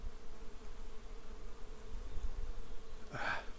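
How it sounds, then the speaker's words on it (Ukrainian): A honeybee working goat willow blossoms on a spring morning outdoors, a faint steady insect drone running under soft ambient background noise throughout, with a brief brighter burst of sound near the end. "Дотрушує бджілка козячу вербу."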